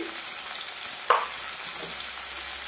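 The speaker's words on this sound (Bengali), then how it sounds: "টমেটোর টুকরোগুলো, আর নাড়তে থাকবো বারে বারে।" Tomato pieces frying in a pan for shahi paneer, a steady soft sizzle with one sharp scrape of a stirring spoon near the middle and a fainter one later.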